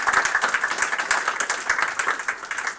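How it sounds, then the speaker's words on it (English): A room of university students and guests gives a round of applause at a pitch event, many hands clapping in a lively, uneven burst that swells and dips briefly. "Let's do another round of applause for everybody."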